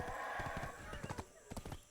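Horse hooves clip-clop in quick irregular beats in Black Desert Online, faint under soft background music.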